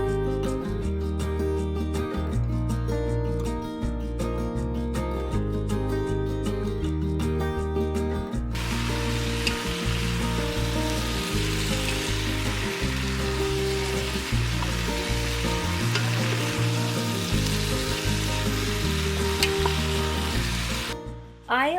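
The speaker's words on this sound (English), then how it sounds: "So I'm just going to go ahead and saute this for about 10 minutes on medium" Vegetables sauteing over medium heat in a pot give a steady, soft frying hiss throughout, with loud tonal background music running over it, busiest in the opening seconds.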